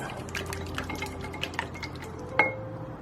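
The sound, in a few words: mixing paleo chocolate pie ingredients in a bowl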